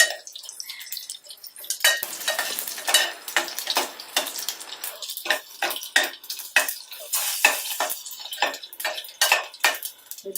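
Garlic cloves added after mustard seeds to hot oil, frying alongside utensil clatter and stirring clinks; a steady sizzle runs underneath while sharp metal taps and scrapes come in quick irregular bursts, close and fairly loud.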